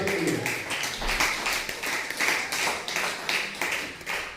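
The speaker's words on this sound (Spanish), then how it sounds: "Aplauda el nombre de Jesús." A church congregation claps during a Spanish-language sermon, rhythmic bursts of clapping that rise and fall in a repeating pulse, moderately loud and close, with no one speaking.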